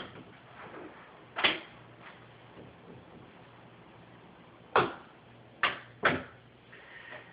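A door fitted with a Springer D hinge-pin door closer swinging shut, giving sharp close thuds and clicks, one early and three more near the end, over a quiet room.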